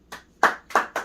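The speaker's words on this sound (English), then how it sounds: "Clap." Four crisp hand claps close up, loud and evenly spaced in quick succession with brief gaps between, alone without talk.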